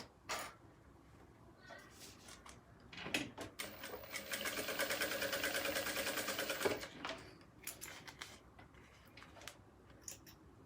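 A sewing machine runs in short bursts, then a longer steady stretch of rapid stitching for a backstitch while sewing an elastic organizer pouch, close and fairly quiet, with light handling clicks around it.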